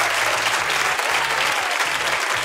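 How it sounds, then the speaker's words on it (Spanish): A studio audience on a Spanish TV game show bursts into loud, sustained applause, dense and steady from start to finish, with faint low rhythmic beats underneath. "¡Aplausazo para estas mujeres,"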